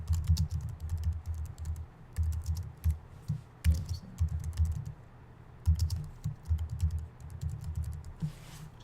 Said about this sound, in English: you can start typing in whatever you want it to say